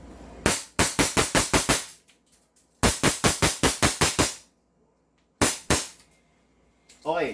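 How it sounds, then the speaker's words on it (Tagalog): A 2011 5.1 Trex Hi-Capa airsoft pistol fires three bursts of sharp, evenly spaced cracks, six to eight shots each, loud and close with short pauses in between. "Nagpaputok tayo rito mga Airsoft 20 rounds."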